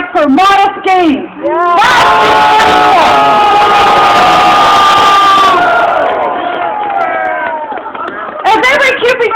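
A large crowd at a CUPE strike rally cheers and shouts loudly for several seconds, a sustained roar of many voices with whoops, framed by a speaker's voice before and after.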